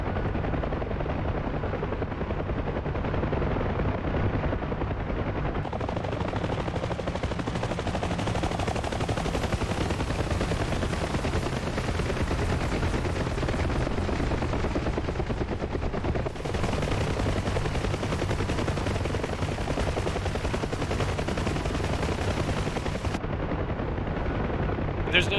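Door gunners on a Huey helicopter fire machine guns in a combat search-and-rescue flight, with steady bursts over the constant loud rotor and engine drone for the whole stretch.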